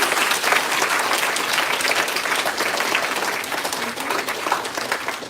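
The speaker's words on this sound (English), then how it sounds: "Can we cheer them with a big round of applause, please?" An audience at the inauguration of a national moot court competition applauds student coordinators and volunteers, a continuous even wash of many hands clapping, moderately loud and unbroken throughout.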